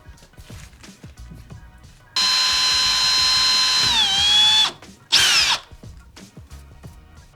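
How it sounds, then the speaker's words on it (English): A power drill bores a hole through a metal flange and into wood during a bathroom renovation. It runs as one steady, loud whine for about two and a half seconds, drops in pitch as it bites, then gives a short second burst. "make my first hole through the flange and through the wood, not going all the way"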